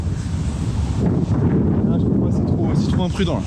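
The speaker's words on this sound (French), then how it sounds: "En plus j'entends rien avec le vent" Strong wind buffets the microphone in a dense, roaring rush during a thunderstorm by the sea in Madagascar. Someone speaks briefly under the gusts.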